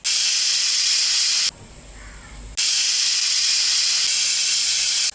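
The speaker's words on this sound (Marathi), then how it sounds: "हे बघा, आपल्या आता 3-4 शिट्या झालेल्या आहेत" A pressure cooker cooking masale bhat, a spiced Maharashtrian rice, lets off loud whistling steam in two long hissing bursts separated by a brief quieter pause, close and continuous.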